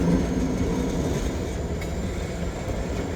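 A freight train rolls past nearby in one continuous loud rumble, with a steady rattling roar and no voices.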